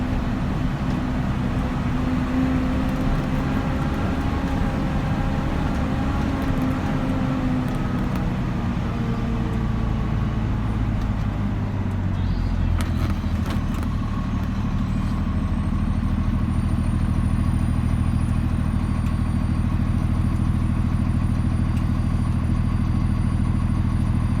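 A 2013 Kenworth T370 wrecker with a 350 hp Paccar PX9 engine runs with a steady, close, low diesel drone throughout, with a brief hiss and clatter partway through.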